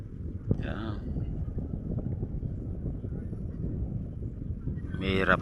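Steady wind rumble buffets the microphone throughout during fishing, with brief voices speaking near the start and end.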